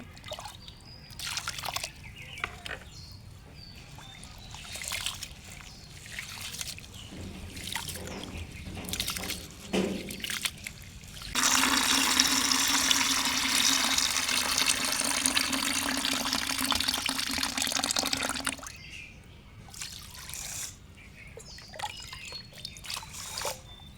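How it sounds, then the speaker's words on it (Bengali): Rice, lentils and potatoes are washed in water in a kitchen, with intermittent splashing and dribbling at first, then a steady close running stream from a tap for several seconds before returning to scattered handling splashes. "আমি এবার চাল, ডাল আর আলুগুলো ভালোভাবে ধুয়ে নেব।"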